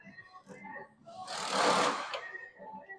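An impact wrench set to loosen spins a 12 mm bolt on the front brakes of a 1999 Honda Vamos HM1, giving one loud, rough burst of about a second between quieter workshop noise.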